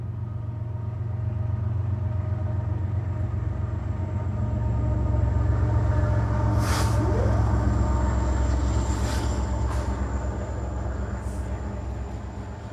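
A train passes near Mukilteo, Washington, its steady low rumble holding for the whole stretch and swelling a little midway, with a few faint high squeals over it.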